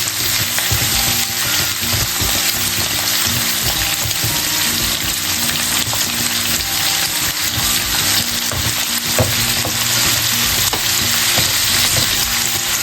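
Osso buco beef searing in a hot pan, a loud, continuous sizzle and crackle of fat frying steadily throughout with no pauses.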